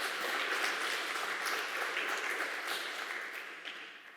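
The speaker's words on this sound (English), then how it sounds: "Let's applaud them." Congregation at a worship service applauding together: a sustained, even patter of many hands clapping, fairly distant and gradually easing off, with no one talking over it.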